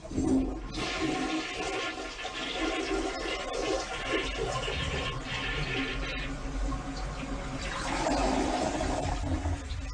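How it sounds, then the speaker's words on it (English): A toilet flushes loudly, rushing and swirling water running continuously, then surging again as the tank refills near the end. "I'll flush you down the toilet, baby."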